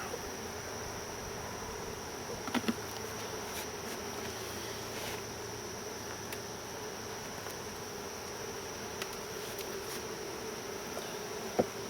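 Honey bees buzz in a dense, steady drone around an apiary hive, with no one speaking and only a few faint knocks and clicks rising briefly above it.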